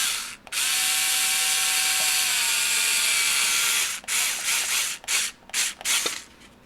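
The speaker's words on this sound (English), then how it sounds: "I got the screws and I got my little handy dandy drill" A small handheld cordless drill runs at steady speed for about three and a half seconds while driving number 6 by 1/2 inch wood screws into a wooden robot claw build, then gives several short bursts and stops.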